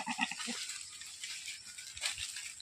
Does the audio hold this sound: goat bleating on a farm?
yes